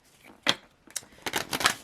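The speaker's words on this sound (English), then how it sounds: "I will shuffle and shuffle and shuffle and shuffle" Tarot deck being shuffled by hand, quick papery riffles and slaps in short bursts, a single burst followed by a denser cluster, close and crisp with no speech.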